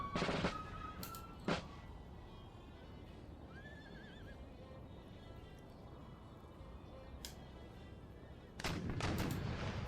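Cannon artillery volleys in Empire: Total War, with booming bursts clustered near the start and end over a steady battlefield rumble, plus a horse's whinny in the middle.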